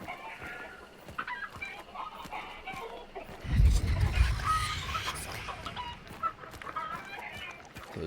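Chickens cluck and squawk in a farm setting within a video game, intermittent bird calls over a low rumbling burst midway, with someone talking over parts of it and dog-like barks mixed in.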